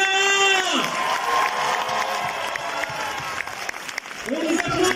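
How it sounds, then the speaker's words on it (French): A premiere crowd applauds the film's director and actors with loud, sustained clapping mixed with cheers and whoops, while a voice talks or sings over the start and again near the end. "Je vous demande d'applaudir très fort Wilfried Nernst, le réalisateur"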